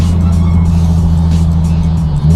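Nissan 370Z with a loud exhaust idling close by, a deep steady droning rumble that holds level for a couple of seconds before a slight surge at the end, with no voices.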